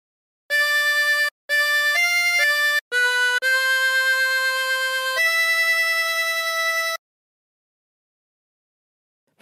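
A harmonica plays a short melody from Silent Night with bent notes, held notes, a few quick separate notes followed by longer sustained tones, then silence.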